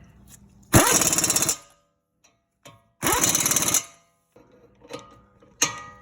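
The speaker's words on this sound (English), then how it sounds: "we're going to take the impact and finish it off" Impact wrench tightening caliper bracket bolts on a Dodge Durango during a front brake job: two loud, close rattling bursts of about a second each, then a couple of shorter, fainter blips, separated by near silence.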